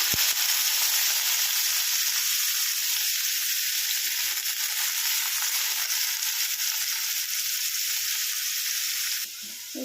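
Bitter gourd pieces fry with cumin seeds in hot oil, giving a loud, close, unbroken hiss of sizzling that holds steady throughout and dips slightly near the end, with no voices.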